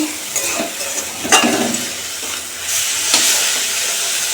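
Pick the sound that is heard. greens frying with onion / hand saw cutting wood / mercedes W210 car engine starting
greens frying with onion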